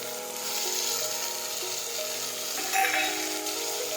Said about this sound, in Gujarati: હવે આપણે સાતળી દઈશું.